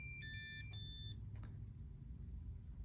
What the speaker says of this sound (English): Our depth alarm's going off.